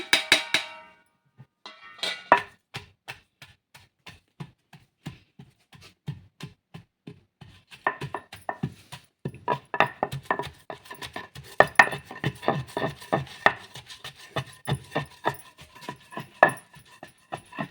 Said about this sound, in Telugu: ఇంకా దంచుతాను ఉల్లిపాయ కారం